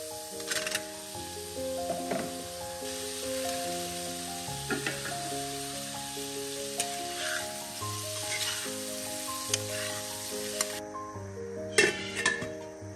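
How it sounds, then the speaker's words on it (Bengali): Fish sizzles and spatters as it fries in a pan, with steady crackling, occasional clinks of a utensil and soft background music playing throughout. "আমি মাছটা ভেজে নিচ্ছি"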